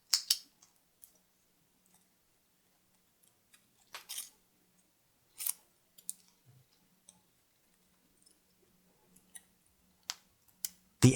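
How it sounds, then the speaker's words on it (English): Scissors snip and click in short, sparse bursts while widening the hole of a handmade survival whistle, with long quiet gaps between the close, crisp cuts. "Gently widen the hole with scissors so air can pass through."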